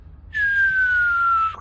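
A voice imitates the descending whistle of an incoming rocket or mortar shell: one clear, sustained whistled tone that slides slowly downward for over a second and then cuts off abruptly, close and alone.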